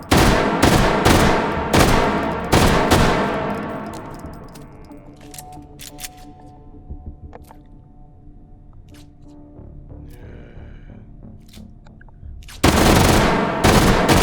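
Bursts of fast automatic gunfire in the VR shooter H3VR come loud and close, with several rapid strings early on, a quieter stretch of mechanical clicks and ringing, then another heavy burst near the end; a voice briefly speaks.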